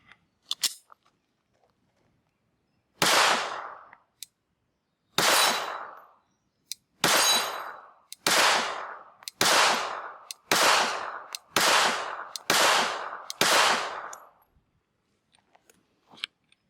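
Glock 28 pistol firing at a range, nine sharp, loud shots spaced about a second apart after a pause, each with a short ringing tail, and a few faint clicks at the start and end.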